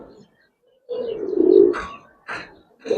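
Giribaz and coloring pigeons coo nearby, one long throaty coo followed by shorter soft calls with brief pauses, no talk.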